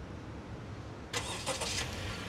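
A Honda WR-V starts with a push button: after about a second of quiet room tone, the engine cranks and catches in a short loud burst, then settles into a steady idle nearby.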